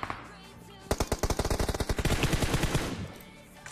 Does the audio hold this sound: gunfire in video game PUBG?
yes